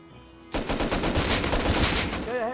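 Gunfire in the survival video game Rust, a dense burst of rapid shots starting suddenly after a quiet moment and continuing loud for about two seconds, with a rising whine near the end.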